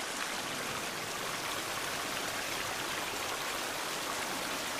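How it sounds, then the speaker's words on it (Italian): Waterfall in The Forest video game, a steady broadband rush of falling water, fairly faint and unbroken, with nothing else over it. "Rumore della cascata si fa sempre più."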